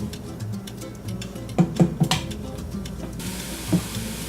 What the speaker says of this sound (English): You really only need to let this saute for 2 to 3 minutes.